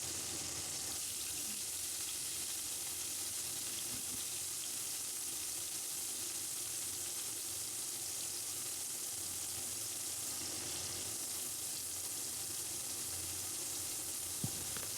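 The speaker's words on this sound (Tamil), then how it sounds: "இப்போ அரிஞ்சு வச்சுருக்கிற வெங்காயம், வெள்ளைப்பூடு இதெல்லாம் சேர்த்து நல்லா வதக்கிட வேண்டியதுதான்." Chopped onions and garlic sauté in a pan for a spring onion gravy, making a constant soft hissing sizzle with faint stirring, unbroken for the whole stretch.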